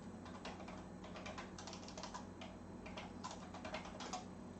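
Fingers tap rapidly on a computer keyboard in quick, irregular bursts of light clicks, faint and close, with no one speaking.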